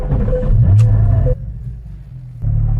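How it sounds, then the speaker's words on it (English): Porsche Cayman GT4 flat-six engine starting up, a loud close rumbling catch and idle that drops to a quieter murmur before swelling again. "Left key, foot on the clutch, and we start this flat 6."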